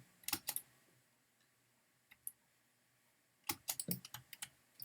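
Rapid clicks of a computer mouse and keys during a Minecraft-style building game, close and quiet, coming in short clustered bursts separated by near-silent gaps.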